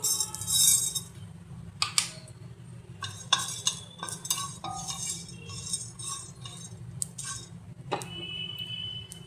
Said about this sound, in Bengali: এবারে দিচ্ছি আমি একটু মৌরি